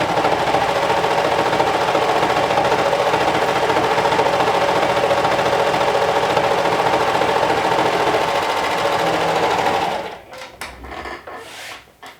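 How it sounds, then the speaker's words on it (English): A sewing machine stitches in a fast, continuous rattling run, then stops, followed by a few scattered clicks and fabric handling noises. "stitching the placket with the sewing machine instead of your serger"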